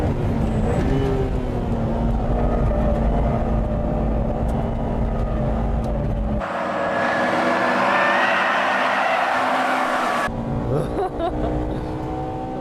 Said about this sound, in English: That car is turbocharged, isn't it?